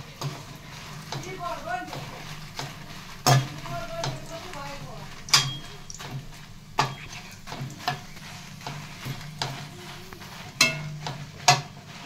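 Dried red chillies fry in a pan and are stirred, with a soft sizzle under repeated sharp scrapes and clinks of the utensil against the pan, while a person talks throughout.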